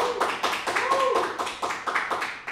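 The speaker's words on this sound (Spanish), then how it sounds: "Un aplauso, por favor." A small audience claps in a quick, uneven rhythm at a studio show, close and fairly loud, with a voice talking over the clapping.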